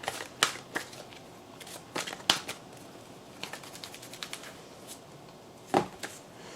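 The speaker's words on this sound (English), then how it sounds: "I'm going to shuffle," A deck of tarot cards is shuffled by hand, giving a series of crisp, close riffling flicks and taps at an uneven rhythm, with a louder snap near the end.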